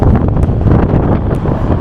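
Strong cold wind at Tokyo Skytree buffets the microphone with a loud, continuous rushing roar and gusty rumbling, heard up close and alone.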